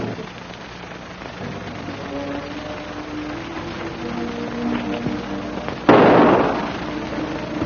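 A single sharp gunshot cracks loudly near the end of a scene from a 1938 film, following a stretch of hissy, murmuring soundtrack noise.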